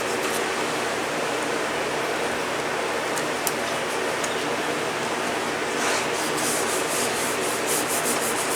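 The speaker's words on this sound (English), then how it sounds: "I'm going to burnish that on there real good so it sticks." Double-sided tape being burnished onto wood, a continuous firm rubbing scrape heard up close and alone, steady throughout with a few light ticks and a slightly brighter stretch near the end.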